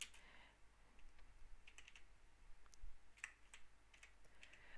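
Typing on a computer keyboard while writing C# code, a quiet run of irregular key clicks coming in short bursts, close and fairly soft, with no talking.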